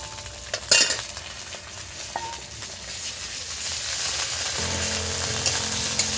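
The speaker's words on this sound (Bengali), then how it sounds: "হালকা জালে ওগুলো ভাজতে হবে। বেটে রাখা আদা বাটা আমি দিয়ে দিচ্ছি।" Ginger paste frying over low heat in a pan for a moong dal with fish head: a sharp clatter of the spoon early on, then a steady close sizzle that thickens toward the end, without speech.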